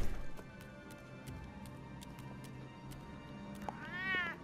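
A cat in the Batman: The Telltale Series game gives one clear meow near the end, after quiet ambience broken by faint ticks and taps.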